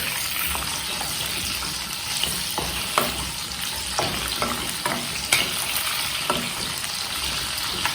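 Chopped potato pieces fry in a pan under a constant close sizzle and hiss, with occasional clacks and scrapes as a spoon stirs them, steady throughout with no voice.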